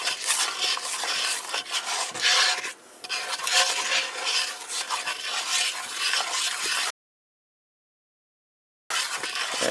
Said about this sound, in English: all you do is get out your wooden spoon and stir all this together